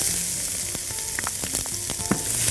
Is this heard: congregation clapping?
no